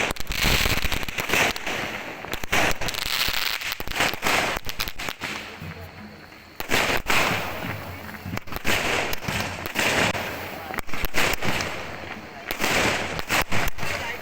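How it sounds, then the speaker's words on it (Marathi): Dense crackling bursts of fireworks and firecrackers go off almost continuously during a palanquin procession in Malvan, loud and close, with a brief lull midway and faint voices beneath. "या निमित्ताने ठिकठिकाणी फटाक्यांची आतिषबाजी केली जाते"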